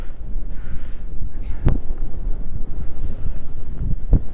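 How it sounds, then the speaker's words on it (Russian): Gusty wind of about 15 m/s at +3 °C rumbles across a microphone during cold-weather bream fishing, a low, uneven buffeting with a couple of sharp knocks and faint rustles, no talking. "Немного сегодня у нас ветрено."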